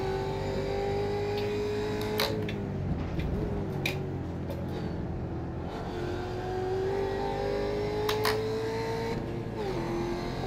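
A race car engine in the iRacing sim holds a steady, loud drone on the throttle, dipping twice as it shifts or lifts before pulling again, with no one talking.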